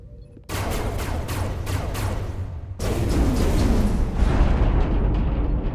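Starship weapons fire in Star Trek: Resurgence. A rapid burst of repeated energy shots is followed by a heavier, louder, rumbling blast that sustains and slowly fades, with no talk.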